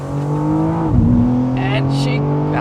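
A BMW M4 Competition convertible with the S58 twin-turbo engine and 8-speed automatic accelerating hard, a loud steady engine drone heard from inside with a brief dip as it shifts, then a rising pull.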